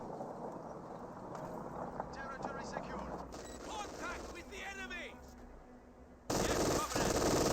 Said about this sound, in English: Machine gun bunker is still very much alive.